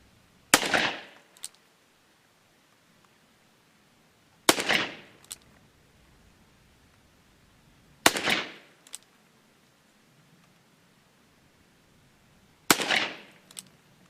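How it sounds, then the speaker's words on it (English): Four loud, sharp reports from a Colt Python .357 Magnum revolver with a 6-inch barrel, fired at a target outdoors, spaced several seconds apart, each with a short echoing tail. "I'm going to shoot at the target there"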